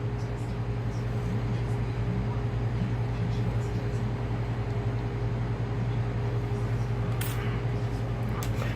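A Losi SCTE Micro RC truck's small electric motor whines at a steady, sustained pitch while its slipper clutch is tested, heard close and fairly loud with a constant drone and a few faint clicks.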